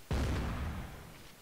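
A single cannon shot in the Napoleonic multiplayer battle game Mount and Blade Warband: one sharp, heavy boom with a deep rumbling tail that slowly fades, no voices over it.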